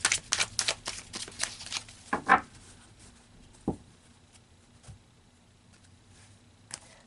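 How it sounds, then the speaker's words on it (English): Tarot cards are shuffled in quick, crisp riffles at the start, then single cards are slid and pulled out in a few soft, separate flicks, close and quiet with no talking. "let's pull some more cards here to get more information"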